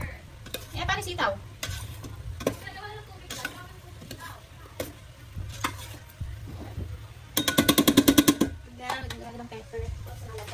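Salmon sinigang ingredients sizzle and get stirred in a home pan, with utensil clinks and scraping throughout and a louder burst of rapid ticking clatter midway, under occasional talk.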